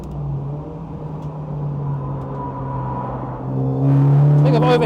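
A Super GT race car on a test track holds a loud, close engine drone with a low steady tone, then rises in pitch and volume near the end as it accelerates hard.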